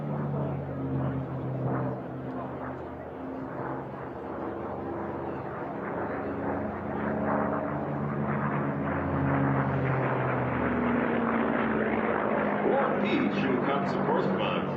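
Piston-engine racing airplane at a national championship air race making a pass from the right, a steady broad engine drone that swells slightly louder toward the end, with a commentator talking over it throughout.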